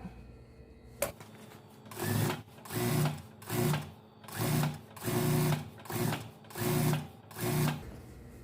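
A sewing machine stitches a sleeveless top, running in seven or eight even bursts of rapid, whirring clatter after a single click, close and fairly quiet, with no talk.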